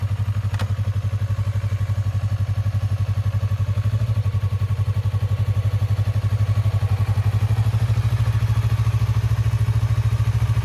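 Motorcycle engine running steadily at low speed with a constant close throb, the rider working clutch and throttle as the bike rolls slowly.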